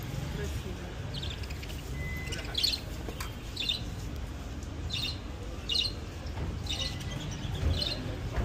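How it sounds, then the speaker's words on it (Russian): Lovebirds give repeated short, shrill chirps and squawks at a steady rhythm, moderately close, over a constant rumbling background noise. "Неразлучные."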